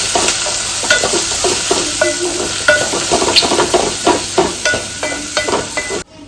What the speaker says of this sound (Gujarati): હવે નાખી દેશું આપણો લીલો મરચો મિક્સ કરી લેશું